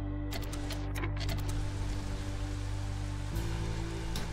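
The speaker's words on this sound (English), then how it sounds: "Oh, and that's a drizzle geyser." Steady rain hiss from a drizzle geyser in the Against the Storm video game, a continuous dense wash under a low game-music drone that shifts partway through, with no talk.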